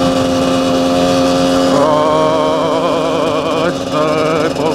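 A motocross bike riding on a paved road, its engine droning loud and close with a steady tone that wavers as the throttle changes, running continuously without speech.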